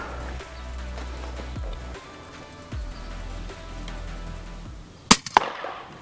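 An FX Crown airgun fires a 26gr Javelin slug during outdoor pest control, one sharp loud pop near the end followed by a quick smaller crack, after a quiet stretch of low ambient rumble and faint thumps.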